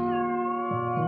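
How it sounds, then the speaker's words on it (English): A house cat gives a single drawn-out meow, close and clear with no other sound around it. "Oh, I love your cats, Professor"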